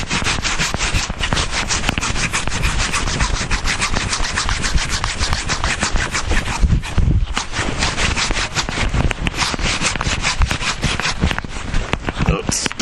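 A hand saw cuts through a log outdoors on a winter hike: loud, close, rapid back-and-forth strokes rasp continuously with only a brief pause partway through.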